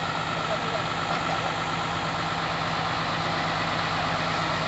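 A Hino truck's diesel engine runs steadily at idle on a narrow road during a recovery, a dense continuous rumble with a droning hum, loud and close, with people talking over it.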